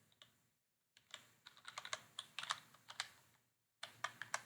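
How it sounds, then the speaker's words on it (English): Someone typing on a computer keyboard, close and quiet, with rapid irregular key taps in short bursts broken by brief silences. "So now I'm going to go back over here and type in"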